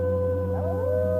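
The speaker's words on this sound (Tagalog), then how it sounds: "nakarinig siya ng alulong ng kung anong halimaw mula sa magharang bahay" A monster's long wolf-like howl rises and bends in pitch in a horror tale, sustained and loud throughout, set over a low constant drone.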